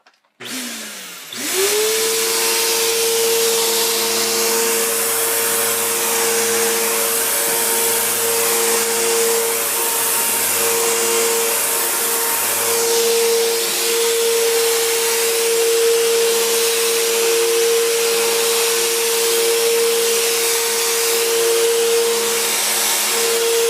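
A Bissell, Kirby or Hoover U6439-900 vacuum cleaner switches on and runs with a loud, steady whine and motor drone, its pitch shifting slightly as it moves.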